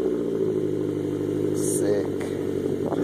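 A Nissan Altima coupe idles on its first run after a new exhaust install, a steady close throaty rumble with a brief rise in revs, while people talk nearby.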